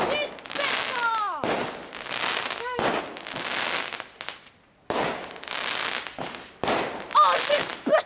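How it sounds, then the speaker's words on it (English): Backyard fireworks bursting in a series of loud cracks and crackling bursts with short pauses between, some whistling rises, while family members talk and react nearby. "Let's just do the next firework."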